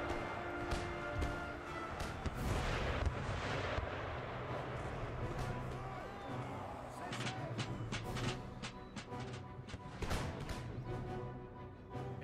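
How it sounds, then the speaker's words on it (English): Booming howitzer fire from an Empire Total War battle, with heavy artillery blasts landing in rapid irregular succession over a dense rumbling battlefield din, loud and close. "It's a lot of howitzer fire."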